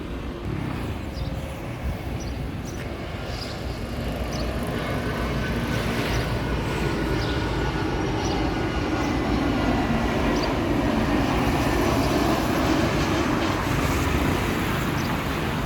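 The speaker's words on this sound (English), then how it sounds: "An Airbus A320 of Thai Air Asia." A Thai AirAsia Airbus A320 approaching to land near Udon Thani, a steady broad jet roar that builds gradually and holds, heard from a distance outdoors over low ambient noise.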